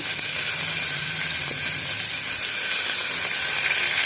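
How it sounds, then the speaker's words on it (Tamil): Onions sizzling in a hot pan of oil with mustard seeds and urad dal, a steady bright hiss running close and unbroken throughout. "இப்போ கொஞ்சம் வெங்காயம், இது கொஞ்சம் நல்லா ஃப்ரை ஆன பிறகு"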